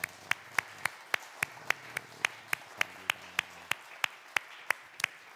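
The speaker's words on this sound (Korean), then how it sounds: "하나님 앞에 영광의 박수를 올려드리겠습니다" Slow, evenly spaced single claps, about three per second, sound during a church Sunday service, clear and fairly close over a quiet background with faint talk.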